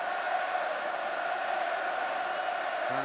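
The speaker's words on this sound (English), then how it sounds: "The crowd's looking to lift the Welsh efforts." A stadium crowd at a 1999 Rugby World Cup match between Wales and Samoa roars and cheers in a continuous, distant, even wash of noise with no clear breaks.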